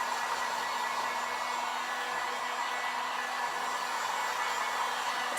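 A hair dryer blows steadily on a Dollar Tree craft pumpkin, a constant close whooshing hum that holds unchanged for the whole stretch.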